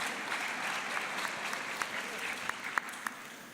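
Attendees at a medical residents' union congress applaud softly, a moderate spread of clapping with a few sharper claps near the end, with voices mixed in.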